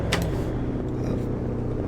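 The 2019 Chevrolet Corvette ZR1 in Assetto Corsa gives a steady, low engine drone at cruising speed, continuous and fairly loud with no shifts or bursts.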